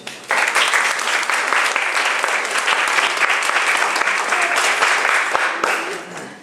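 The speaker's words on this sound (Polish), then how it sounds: "Także Pani Magdzie należy się brawa i gratulacje." Applause from an audience at an art exhibition opening in Oliwa, steady dense clapping that starts abruptly and holds loud and even for several seconds before tapering slightly.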